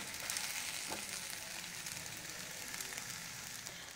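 Ambadi (roselle leaf) bhaji being stir-fried in a pan, with a steady, even sizzle of frying throughout and faint stirring, no voices.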